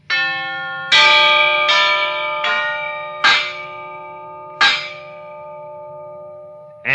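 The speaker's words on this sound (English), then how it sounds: "Will you press the button that sets off the chimes" A set of brass door chimes rings out in a slow sequence of about six clear, resonant metallic strikes, each note sustaining and fading into the next over a faint low hum, loud and close.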